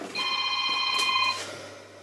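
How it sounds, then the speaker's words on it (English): A telephone ringing nearby, one loud electronic ring burst lasting about a second before fading, heard beside burglar alarm equipment. "sorry about that phone call"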